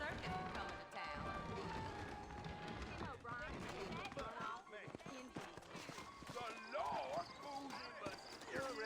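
Horses gallop in the Red Dead Redemption video game, with drumming hoofbeats mixed in with a dense game soundtrack and ambience. People talk through much of it.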